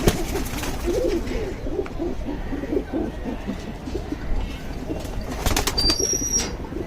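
Pigeons in a loft, a khaki pigeon among them, coo in low steady murmurs throughout, with brief wing flaps and rustling near the end, no voices.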